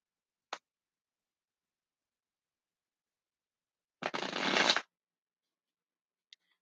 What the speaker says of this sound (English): So I'm going to shuffle 2 more times with these Hidden Truth Oracle cards